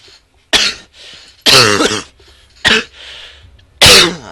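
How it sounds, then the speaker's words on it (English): Several loud, harsh coughs in separate bursts, close up, with short silences between them and no talking. "Sorry about that cough."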